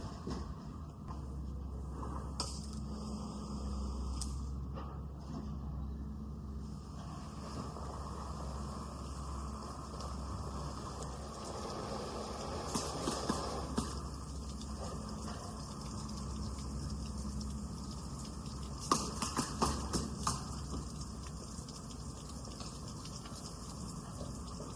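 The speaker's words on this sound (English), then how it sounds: "Turn the water on." Water runs steadily from a garden hose or tap onto lettuce beds, a continuous gushing hiss with faint clunks and knocks. It is heard at moderate distance and quietly for the whole stretch, with no talking.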